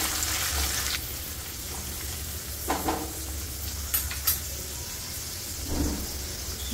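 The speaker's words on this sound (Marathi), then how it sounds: "छान परतून घेऊया." Cashews and dried red chillies sautéing in a hot pan make a loud, continuous sizzle, broken by a few sharp scrapes and stirs from a utensil, with no one talking.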